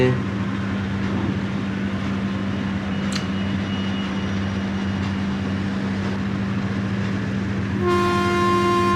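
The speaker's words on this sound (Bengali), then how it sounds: "একটা ট্রেন ক্রস করলো একটু স্লো করেছিলাম" A train rolls by with a steady low hum and rumble, a brief squeal midway, and a loud horn sounding at the very end.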